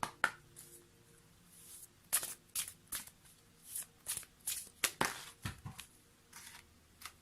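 Oracle cards shuffled by hand during a card reading, a close, quiet series of sharp riffles and soft slaps in an uneven rhythm, alone without talk.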